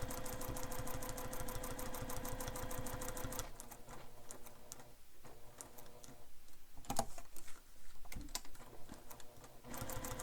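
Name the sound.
sewing machine stitching a bag's zipper window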